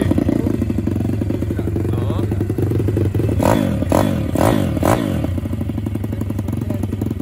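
MRF 140 RC-Z pit bike (2021) engine runs loud and close throughout, with a few sharp throttle blips in the middle over a steady rough idle and some clatter.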